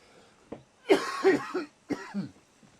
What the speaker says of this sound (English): occasionally I get a tickly cough, which gets very irritant, and I may start having coughing fits